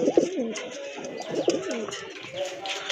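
A pair of white-tailed white Kagji pigeons coo close by, two rolling, wavering coo phrases about a second and a half apart against a busy background murmur, with no talk.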